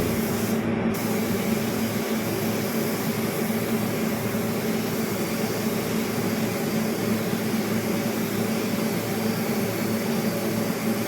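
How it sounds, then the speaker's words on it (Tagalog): Steady, loud hiss of a spray gun applying paint to a BMW front bumper, continuous and close throughout with no talking. "Ayan, kinukulayan na natin."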